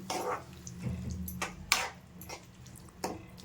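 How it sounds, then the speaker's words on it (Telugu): Water poured in small splashes into a bitter gourd curry with tamarind pulp: a few soft, brief pours and drips separated by quiet pauses, faint and close. "ఇప్పుడు మనం అలాగే కొంచెం వాటర్ని కూడా యాడ్ చేసుకుందాం"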